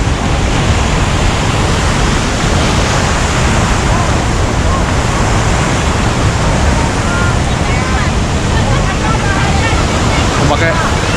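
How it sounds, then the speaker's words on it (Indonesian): Big ocean waves crash at Karang Hawu beach in a loud, continuous roar of surf and churning water, steady for the whole stretch, with wind buffeting the microphone. "Ombaknya sangat besar sekali pemirsa"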